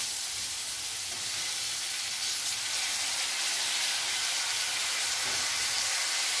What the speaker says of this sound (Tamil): எல்லாம் நல்லா வதக்கட்டும்.